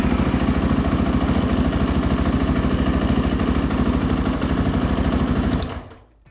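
A motorcycle engine runs at a steady, loud idle with an even, fast pulsing beat, then cuts off and fades out in the last second.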